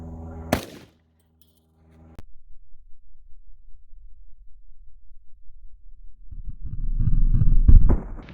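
A single loud, sharp .41 Magnum gunshot fired into ballistics gel from 15 feet, followed by a click, a few seconds of silence and then a steady low hum that swells near the end.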